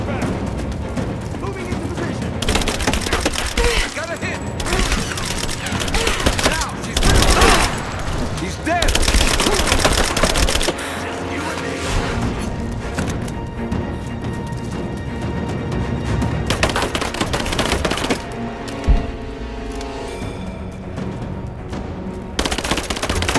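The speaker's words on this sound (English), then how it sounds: "Keep firing! Back me up! Laying down covering fire!" Sustained automatic gunfire and bursts of covering fire rattle through a Rise of the Tomb Raider firefight, loud and close, with pauses, distant booms and shouted voices over the shooting.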